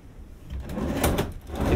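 A drawer in a dated but clean Orlando condominium hotel suite slides open and shut, a short, soft scraping rumble close by with a slight bump near the end, and no talk.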